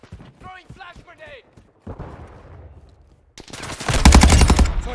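Gunfire rattles in Call of Duty Modern Warfare 2, coming in as a loud burst of rapid shots near the end after stretches of game voice callouts and quieter effects.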